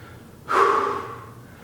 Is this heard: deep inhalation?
yes